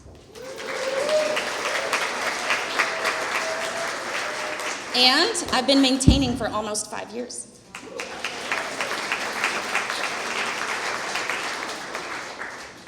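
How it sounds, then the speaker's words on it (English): Audience applause at a motivational talk on personal transformation fills the room as steady, dense clapping, with someone speaking over it throughout and a brief break partway. "now let's get ready to applaud"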